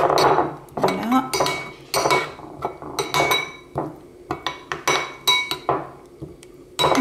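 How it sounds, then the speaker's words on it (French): Utensils clink and scrape against a bowl while tartare sauce is stirred, a lively run of bright metallic taps and knocks in irregular rhythm, close and fairly loud. "Allez, maintenant on va mélanger tout ça."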